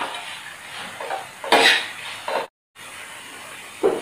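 A spoon scrapes and stirs peanut masala into green beans in a pan, giving soft gritty scraping strokes with a faint sizzle, broken by a brief silent gap; no talking.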